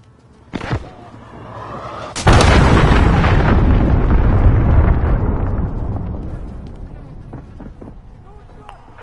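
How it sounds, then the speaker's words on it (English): A cruise missile strike explodes in the Call of Duty video game: a sharp crack, then about two seconds later a huge, close blast whose deep rumbling roar slowly fades away over several seconds. "Enemy cruise missile."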